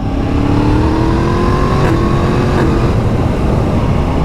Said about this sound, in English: Oh, there's a car behind me.